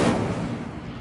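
A fire spell cast in Hogwarts Legacy bursts out with a loud, close whoosh and crackle that fades steadily over about a second, with no talk over it.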